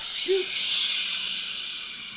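Paint sprayer on an old radio comedy show, a loud, steady airy hiss held for about two seconds, with a brief faint vocal murmur near the start.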